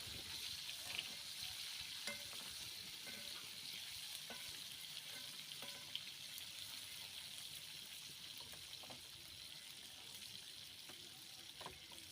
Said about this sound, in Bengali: আমার মাছগুলো হয়ে গেছে ভাজা